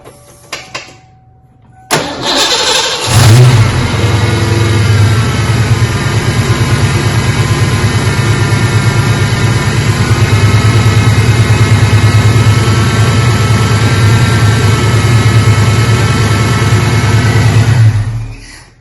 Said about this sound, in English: let's go ahead and get the car started